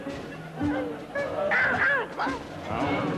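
An audience imitates seagull calls, several voices honking and squawking together in overlapping, wavering cries that fill a room.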